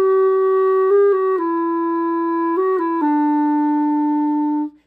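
Clarinet plays a phrase of a theme with a small decorative embellishment, clear sustained notes stepping between pitches with a quick ornamental turn, solo and close, ending in a held note that cuts off.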